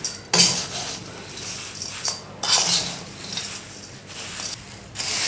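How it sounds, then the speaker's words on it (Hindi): A spoon scraping and stirring chewra nimko, a crisp flattened-rice snack mix with curry leaves, in a hot metal kadhai off the stove: repeated rattling, scratchy strokes of metal on metal and crunchy grains, close and loud. "इसको मैं इसलिए ये चम्मच बार बार चला रही हूँ क्योंकि कढ़ाई गर्म होती है ना"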